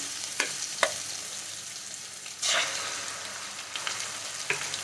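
Three eggs go into frying onion and tomato for mutton kothu parotta, heard as a steady close sizzle broken by several sharp utensil taps and a louder burst of hiss midway.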